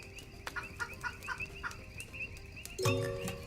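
Game chickens on a farm in an early-access colony-building game cluck in a quick rhythmic series of short calls, followed by a louder squawk near the end.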